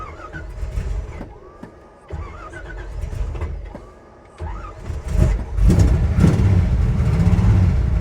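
1957 Chevy with a 454 engine and a new five-speed cranking: repeated starter whirs and turnovers that stumble, then the engine catches and rumbles loudly into a rough idle.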